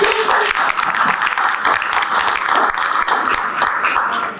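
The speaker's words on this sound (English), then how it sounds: "All right, round of applause." Meeting attendees applaud together in an indoor room, a steady, dense wash of clapping hands lasting the full few seconds with no break.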